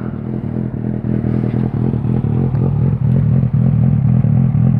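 A motorcycle idles loudly and close, past 100 decibels, in a steady, throbbing engine drone with an even pulsing rhythm and no revving.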